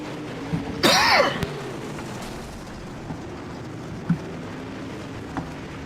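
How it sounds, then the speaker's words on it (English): One harsh, close cough bursts out early, followed by quiet room tone with a few faint bumps and clicks. "Here I got the cough"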